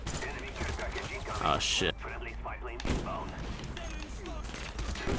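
Rapid FAMAS rifle gunfire in the video game Call of Duty: Black Ops 1, a loud burst of shots in quick succession mixed with game sounds, while a player exclaims over it.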